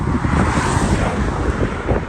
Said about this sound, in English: we're gonna keep going because it's too windy